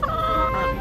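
Fowl at a seniors care home visit with chicks and roosters, one short close gobbling cluck call, loud and alone.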